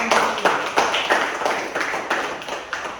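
Classroom applause from a group of students, a steady patter of hand claps with regular pulses lasting a few seconds, fairly close and without talk.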